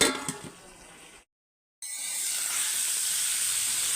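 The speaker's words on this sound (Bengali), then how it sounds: "তো ফুলকপিটা একটু কষিয়ে নিচ্ছি।" Cauliflower sautés in a pan with chilli, panch phoron, cumin powder and turmeric, with no onion. A soft hiss breaks off into a brief silence, then returns as a steady, bright sizzle.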